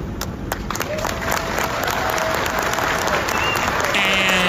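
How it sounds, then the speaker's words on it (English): A crowd applauds loudly and continuously for two NYPD sergeants shot after an armed robbery in New York City, with dense clapping, scattered sharper claps and faint voices and whistles mixed in. "the clapping for two NYPD sergeants shot following an armed New York City robbery"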